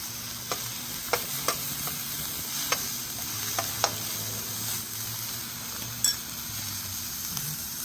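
Onions sizzle steadily in a hot oiled pan on an outdoor stove, with a few sharp scrapes and clinks of stirring at close range and no talking.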